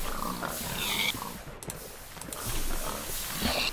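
A Minecraft pig grunts and oinks in short bursts amid game background noise, with no talking.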